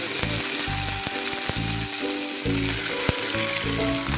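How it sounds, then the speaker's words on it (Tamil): Onions dropped into hot oil for Malaysian nasi lemak sambal sizzle and crackle steadily, a close, continuous frying hiss with faint music in the background. "வெங்காயத்தை போட்டு நல்லா வதக்கிடணும்."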